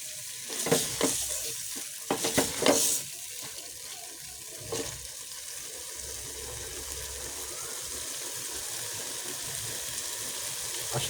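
Vegetables frying in a pan with a few loud stirring scrapes and clatters near the start, followed by a steady soft sizzle, with no talking.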